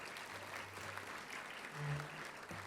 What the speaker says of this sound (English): I just want everyone to give our panel presenters a round of applause